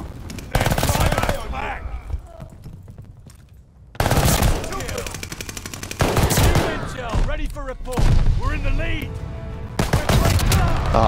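Call of Duty: Vanguard multiplayer gunfire comes in loud bursts of rapid automatic shots, breaking off briefly before resuming, with a player talking over parts of the action.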